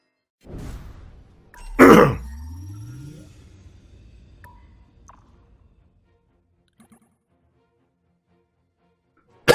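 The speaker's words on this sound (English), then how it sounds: "Sorry about the coughing." A single harsh throat-clearing cough bursts out loud and close, trailing into a low rasping grunt, followed by faint scattered clicks and near silence.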